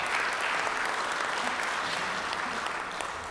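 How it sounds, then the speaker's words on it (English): Sustained applause from a Rotary club meeting audience for a sponsor, a dense, even wash of clapping that holds steady and eases slightly toward the end. "let's give Stepping Stones a round of applause"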